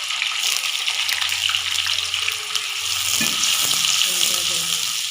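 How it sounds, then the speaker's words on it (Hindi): Finely chopped garlic cloves frying with onions in a pan, a loud, steady sizzle throughout with a touch of stirring near the end. "ये भी हम इसके अंदर शामिल कर देंगे, ताकि ये भी साथ ही प्याज से फ्राई हो जाए।"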